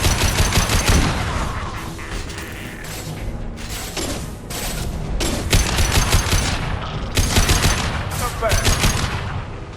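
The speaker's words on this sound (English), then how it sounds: "Firing concussive shot." Rapid bursts of gunfire and a concussive shot blast in Mass Effect 2, loud, sharp and repeated in clustered volleys with mechanical clatter between them, a brief voice cutting in.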